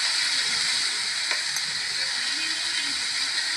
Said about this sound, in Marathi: असं चांगलं हलवून घ्यायचं